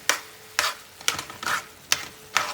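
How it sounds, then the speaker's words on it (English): A spoon stirring Italian seasonings into spaghetti sauce in a pan, five distinct scraping strokes at a steady rhythm over a faint sizzle, close and fairly loud, no voices. "Go ahead and mix all those yummy seasonings around."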